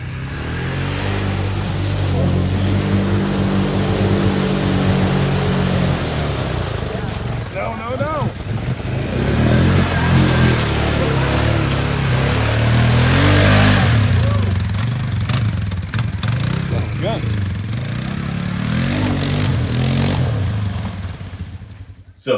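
A 2020 Polaris Sportsman ATV with a radiator relocation kit churns through mud, its engine droning loud and close with revving swells and bogging dips throughout, while a voice talks over it.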